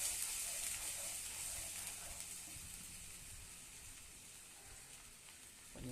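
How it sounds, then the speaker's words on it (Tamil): Ground dry ginger, karpooravalli and tulsi paste sautéing in a pan, giving a steady, soft sizzle and hiss that fades slightly over the stretch, with no talk. "அரைச்சி வச்சுட்டு ஒரு வதக்கிடுவோம்."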